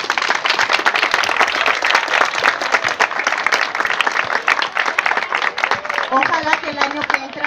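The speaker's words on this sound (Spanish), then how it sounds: "Fuerte aplauso." Sustained applause from a crowd at a youth basketball award ceremony in Galeana, dense steady clapping that fills the whole stretch, with a voice briefly heard near the end.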